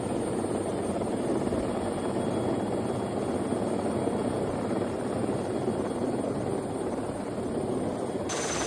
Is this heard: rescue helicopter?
yes